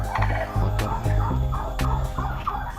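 Farmed turkeys gobble in a pen, several loud bursts of gobbling in quick succession close by, with no talk.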